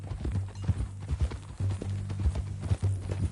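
Horse hooves clip-clop at a steady walking rhythm in the Red Dead Redemption 2 game world, close and fairly soft, alone without voices.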